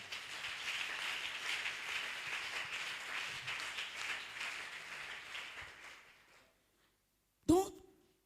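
A church congregation applauding: a dense, sustained wash of clapping that fades out, then a brief silence and one short sharp sound at the end.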